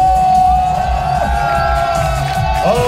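Crowd at a school autumn sports day cheering, shouting and clapping together, a loud, continuous mass of voices with whoops rising over steady applause throughout.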